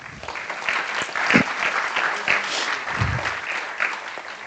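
An audience at a humanitarian ambassadors awards ceremony claps in a steady, moderately loud wash of applause that carries on without a break.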